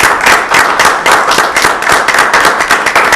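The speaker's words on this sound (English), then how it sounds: "join me in a round of applause and thank our staff members for all they do" An audience at a town council meeting breaks into loud, close, continuous applause, many hands clapping in a dense, slightly rhythmic wash with no talking.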